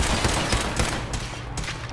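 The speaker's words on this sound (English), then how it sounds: "I put about 15 rounds in that guy." Rapid gunfire from guns in Fallout 4, a dense burst of loud overlapping shots filling the whole moment.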